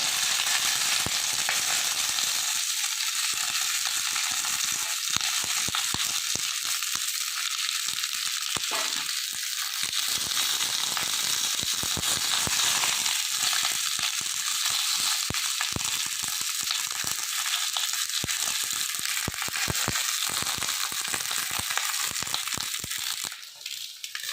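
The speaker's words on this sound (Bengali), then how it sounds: "এই চাদা মাছগুলো সব কলা পাতার উপরে দিয়ে দিচ্ছে কারায়ে" Chanda fish laid on banana leaves cook in a hot kadai, giving a loud, steady crackling sizzle with dense popping throughout and a brief dip near the end.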